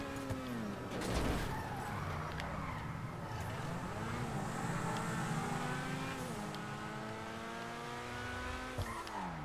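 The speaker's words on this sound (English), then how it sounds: "The Malibu Max is equipped with very advanced all-wheel drive, so you can drive up walls like this." Engine of a Chevrolet Malibu Maxx car driven in a video game, running steadily throughout with rising and falling pitch as it revs, plus brief tire squeals and a few knocks.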